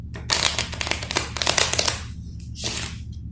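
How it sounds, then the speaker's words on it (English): Playing cards from a deck riffle in a quick burst, followed after a short pause by a second, briefer shuffle, close and crisp. "Just mixing up the cards."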